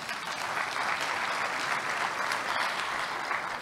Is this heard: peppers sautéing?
no